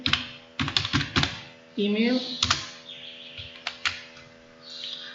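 Clicky keystrokes on a computer keyboard while a registration form is filled in, sounding in short bursts of quick taps with pauses between them, close and fairly loud, with a voice briefly heard partway through.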